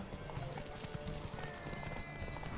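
Hooves of a horse ridden in The Witcher 3 video game clip-clop in a quick, steady galloping rhythm, close and clear, with no talking over them.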